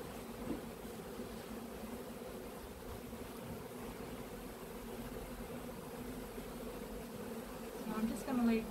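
Honey bees buzz inside a box in a cupboard, a steady low droning hum that holds throughout and swells near the end.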